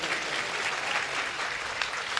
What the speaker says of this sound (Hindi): एक बार इस आयोजन के लिए जोरदार तालियां बजाइए सभी लोग।